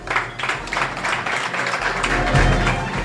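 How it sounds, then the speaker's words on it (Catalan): Audience applause at a gala honouring a standard-bearer, a steady wash of clapping across the whole stretch that swells slightly toward the end, with faint voices mixed in. "Es despedim amb un fort aplaudiment."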